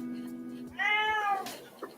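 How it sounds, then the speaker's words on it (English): A cat gives a single clear, rising-and-falling meow close by indoors, lasting about half a second against a quiet room background. "My goodness, cat."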